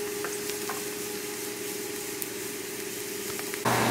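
Potato and spinach cakes fry in clarified butter, a close, continuous crackling sizzle holding steady throughout and growing slightly louder at the very end.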